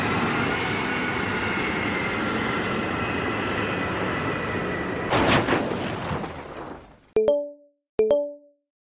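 An airplane comes in to land on a remote runway: a steady, loud engine roar holds for several seconds, then a rough burst of impact and skidding noise fades out, followed by two short electronic chime tones.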